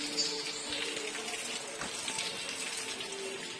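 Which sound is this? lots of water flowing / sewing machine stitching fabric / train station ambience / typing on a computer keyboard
lots of water flowing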